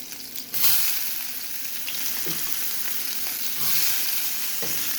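Onion being fried in a pan with turmeric, giving a steady broadband sizzle with a louder burst as the onion goes in, continuing alone without talk.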